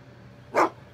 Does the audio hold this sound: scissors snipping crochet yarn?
no